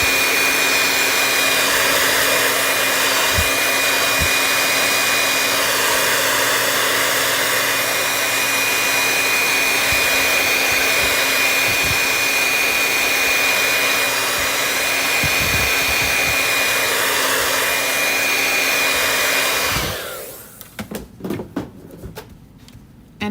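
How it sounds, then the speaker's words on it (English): A hair dryer blows on a custom t-shirt to dry the ink, a loud, steady whine with a constant hum for about twenty seconds before it switches off, leaving faint handling clatter. "I'm gonna use a hair dryer."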